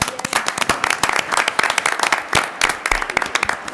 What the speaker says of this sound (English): Maybe we can give a round of applause for all three.